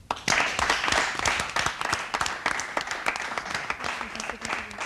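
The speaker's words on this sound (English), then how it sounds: "Let's have a big round of applause for them" A studio audience at a science quiz show claps for a team, a continuous dense burst of applause throughout, with faint voices mixed in.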